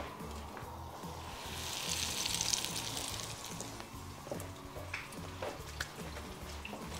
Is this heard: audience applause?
no